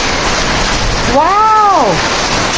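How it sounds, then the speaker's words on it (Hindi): Heavy rain mixed with falling hail during a summer downpour, a loud continuous roaring wash of noise, with a brief rising and falling voice-like tone in the middle. "अरे ओले पड़ रहे हैं, ओले।"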